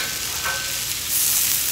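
Vegetables and onions hitting a hot griddle for a philly cheese steak, a short burst of steady close sizzling that swells louder toward the end.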